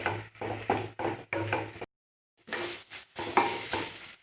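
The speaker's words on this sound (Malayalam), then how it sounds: "ഇതിലേക്ക് നമ്മൾ എടുത്തു വെച്ചിരിക്കുന്ന ചിക്കൻ ചേർത്ത് കൊടുക്കുക. ഇത് നന്നായിട്ടൊന്ന് വഴറ്റി കൊടുക്കുക." Chicken being sautéed and stirred in a pan for chicken macaroni, heard as a close run of rhythmic stirring and scraping strokes with a light sizzle beneath, broken by a short silent pause midway.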